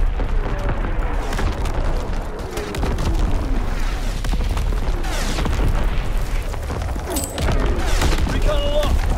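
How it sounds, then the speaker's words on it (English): Artillery shells strike in Call of Duty: WWII, a World War II shooter, in a continuous barrage of heavy, rumbling explosions with sharper bursts cutting through near the end. "Firing division artillery."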